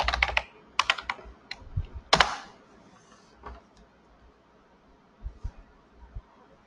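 Keys clatter on a computer keyboard as a command is typed, a quick burst of close clicks followed by a few sparse taps and a couple of louder keystrokes later on.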